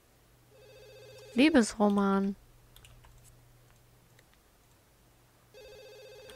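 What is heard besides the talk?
telephone ringing in the video game The Sims 2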